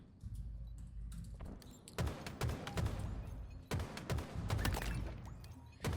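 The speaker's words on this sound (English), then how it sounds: "shots are going to continue to fire away" Gunfire in a Halo Rec League competitive match, bursts of rapid shots in two clusters with sharp cracks and thumps, moderately loud and without voices.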